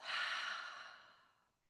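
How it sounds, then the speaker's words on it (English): One slow, deep breath is exhaled through the mouth in a quiet room during a guided breathing exercise, a soft airy rush that fades out gradually. "taking a deep breath in through the nose and to exhale through the mouth"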